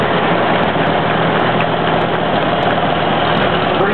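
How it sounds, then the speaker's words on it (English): A 1944 Farmall tractor fitted with a side-mounted highway mower, running in a small-town parade, gives a steady, close, loud engine drone that holds an even idle-like rhythm with no voices over it. "1944, Farmall 8 with a side-mounted highway mower on it."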